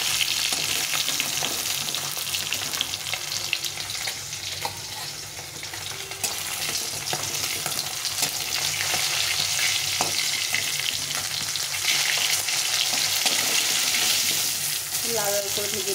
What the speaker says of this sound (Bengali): যার জন্য মাছকে একটু কম তেলে ভাজতে হয়, তাহলে মাছের ফ্লেভারটা ভালো থাকে